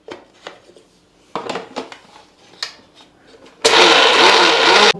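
A mixer grinder grinding raw mango, garlic and salt: several handling clatters and clinks of the jar, then the motor roars on loud and steady for over a second, very close.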